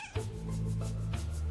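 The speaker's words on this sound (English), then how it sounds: "He is just acting like a normal cat would who's fearful in a fearful situation" Fearful cat meowing at low level, a few drawn-out, strained cries set against a steady low hum indoors.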